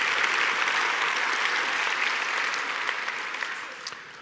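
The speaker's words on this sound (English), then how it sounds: "You can applaud for that." An audience at a tribute event for Christopher Hitchens breaks into steady applause that holds evenly, then slowly thins toward the end.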